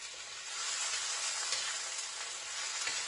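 Mushrooms and celery sauté in a wok with a soft, continuous sizzling hiss that holds even throughout, without voices.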